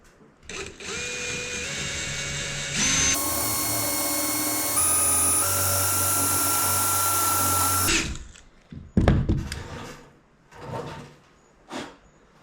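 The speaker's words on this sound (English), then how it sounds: "we're gonna go ahead and drill some holes" A power drill whines steadily for several seconds, drilling holes in wood, then stops, followed by a few clunks and knocks of handling wood.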